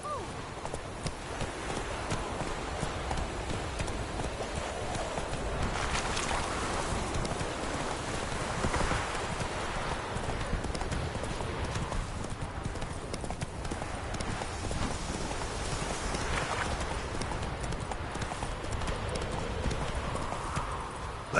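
Hoofbeats of Roach, Geralt's horse in The Witcher 3 on PS4 Pro, clip-clopping steadily and close for the whole stretch, with soft rain-like patter and game ambience behind.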